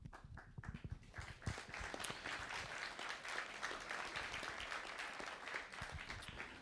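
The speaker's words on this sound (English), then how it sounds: "that's the last applause we're going to do after introductions" A crowd applauds candidate introductions at a mayoral candidate forum, with sustained, dense clapping that stays steady and fairly distant, with no talking over it.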